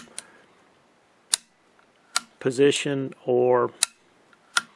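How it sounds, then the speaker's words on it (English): The safety selector on a Ruger Precision Rimfire rifle, a 45-degree throw with a firm detent, gives several sharp, isolated clicks spaced across the clip as it is flipped back and forth, close to the microphone, with brief speech in between. "you can kind of hear it clicking back and forth in place"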